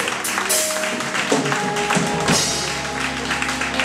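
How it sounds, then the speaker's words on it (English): A Sunday outreach church congregation claps hands in praise, a dense, sustained patter of many hands running for several seconds at moderate loudness, with a faint tone underneath. "Why don't y'all give the Lord a hand clap of praise this morning?"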